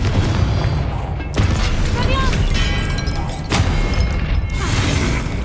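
Confringo spell explosions in the Hogwarts Legacy video game go off as two loud bursts a couple of seconds apart over dense game noise and magical whooshes, with speech heard among the clatter.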